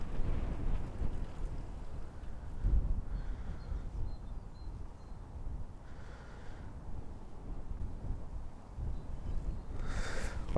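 Wind gusting across open water at a match-fishing venue, a steady broadband rush buffeting the microphone with slight swells and no voices.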